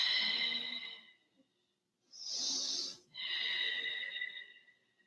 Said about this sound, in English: Long, deep breathing, long neck.